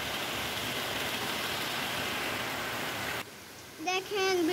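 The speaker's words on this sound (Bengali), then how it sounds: "এখন আবার বৃষ্টি নামছে।" Heavy rain pours in a dense, steady hiss for about three seconds, then drops away abruptly, followed by a brief tonal, voice-like sound.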